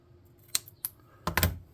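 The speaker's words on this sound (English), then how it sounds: "I'm going to snip that off at an angle." Scissors snip material at an angle for a tabletop-game church scatter terrain piece, giving a few crisp, close clicks, two single cuts followed by a quick cluster of snips.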